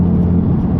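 A motorbike passing close by, heard as a loud steady engine drone with a low humming tone, brief and continuous.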